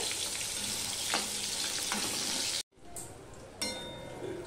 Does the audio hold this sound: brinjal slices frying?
yes